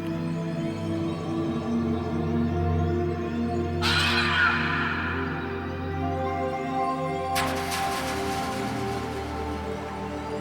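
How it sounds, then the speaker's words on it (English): Harsh, crow-like cawing cries of Archaeopteryx, the prehistoric first bird, ring out in a tropical forest setting, two loud bursts standing out against a steady humming background of forest ambience with no voices. "Archaeopteryx, the world's oldest bird."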